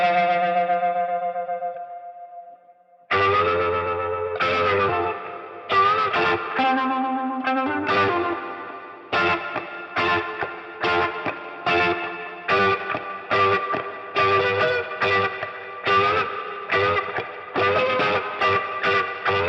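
Electric guitar played through a Univibe modulation simulation on a Fractal Audio unit, swirling and chorus-like, opening with a sustained chord, then a run of rhythmic strummed and picked phrases, loud and alone.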